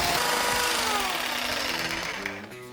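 A power tool cuts wood, its blade set low, on a beginner's first woodworking project; a steady, loud whine runs throughout with shifting harmonic tones, easing slightly near the end.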